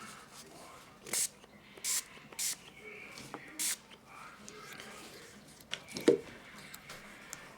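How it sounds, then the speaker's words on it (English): Several short hissing spray bursts, close and fairly quiet, spaced about a second apart, followed by soft handling noises. "And I'm going to spray with my antibacterial."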